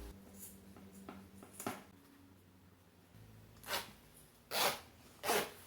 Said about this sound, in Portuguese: Então agora nós vamos colocar o cursor no zíper, alinhe bem direitinho.